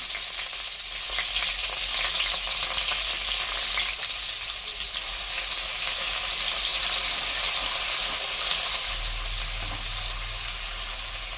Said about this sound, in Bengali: এবার কুচানো পেঁয়াজ দিয়ে ভাজবো